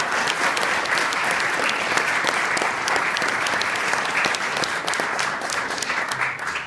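Audience applause at the inauguration of a fencing hall, a dense, steady wash of many hands clapping close by for the whole stretch, without voices on top.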